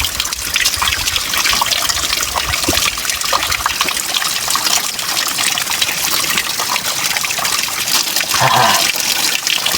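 Water trickles and gushes steadily as a soldier drinks, a continuous splashing flow close by with no talk over it.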